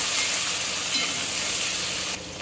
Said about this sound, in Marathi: आता आपण त्यामध्ये चणा डाळ टाकू.